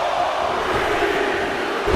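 Arena crowd noise from a WWE 2K24 elimination chamber match, a steady, loud wash of cheering and roaring that holds constant throughout and swells slightly at the end, with no talk.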